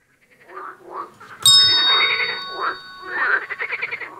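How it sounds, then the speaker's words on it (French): Frogs croak in a series of raspy, pulsing calls at close range, with a brief bright ding-like chime cutting in partway through and no one speaking. "Des grenouilles. Bonne réponse."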